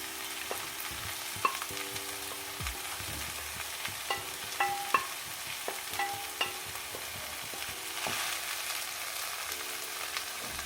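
A soya chunk and chicken cutlet mixture is stirred in a bowl, with soft scraping and clicking strokes repeating steadily at close range, plus a few sharper knocks, and no one talking.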